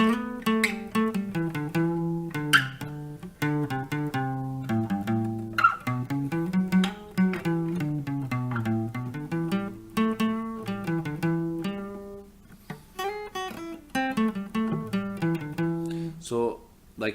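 Meandering warm-up guitar notes played freely and at random without a set rhythm, some sustained and bending, with occasional brief pauses between phrases.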